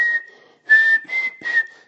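A person whistles a steady high note imitating an eerie, otherworldly whistle, in four short bursts with brief gaps, close and clear with nothing else around.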